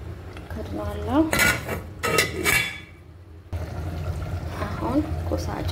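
A lid is set onto a cooking pot of chicken stew with a couple of sharp metallic clanks and scrapes, amid clattering pans and kitchen handling, with someone talking over the sounds.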